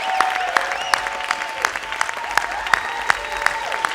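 An audience at a school culmination ceremony claps for 4th graders, a steady patter of close, sharp claps with distinct individual hand strikes and faint crowd murmur.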